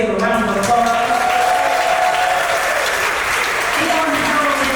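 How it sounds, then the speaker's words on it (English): A choir concert audience applauds a sound engineer, a dense, loud, continuous wash of clapping with some crowd noise and faint voices mixed in, holding steady throughout. "So first, Tim Berger on sound. Please give a round of applause."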